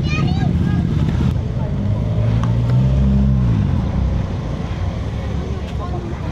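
Road traffic around a scooter on a night ride: loud, close engine rumble with passing vehicle drones, a pitch-shifting engine sweep midway, and wind buffeting over the mic.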